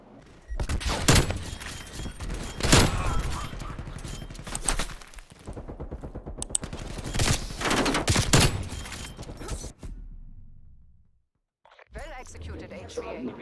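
Rapid bursts of gunfire in a shooting video game, dense loud volleys that stop for a moment of near silence before firing resumes, with someone talking over them.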